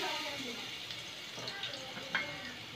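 A tablespoon of ginger garlic paste fries in hot oil for a yogurt chicken dish, making a quiet, continuous sizzle with a couple of faint utensil taps near the end.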